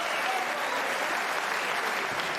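Sustained applause from a snooker crowd at the 2022 World Snooker Championship, dense and even clapping filling the arena throughout, with no break in the sound.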